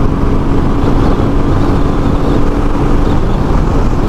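A 2021 Royal Enfield Meteor 350 motorcycle cruising on a highway at around 60 to 70 mph, its steady engine drone blended with heavy wind rush, loud and continuous with no talking.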